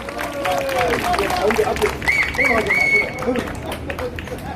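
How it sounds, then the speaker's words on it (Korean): Crowd at an outdoor rally in Gwanghwamun applauding and calling out to welcome a speaker, a steady wash of clapping and voices with higher shouts and whistles mixed in, loud and sustained throughout. "여러분 박수로 환영해 주십시오"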